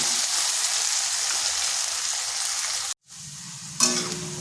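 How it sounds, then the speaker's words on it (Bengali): Potato and bitter gourd frying in a generous amount of oil, a steady close hiss that cuts out briefly, then returns softer before a sharp clatter of stirring. "এরপর আলু আর করলা একসাথে ভেজে নিচ্ছি।"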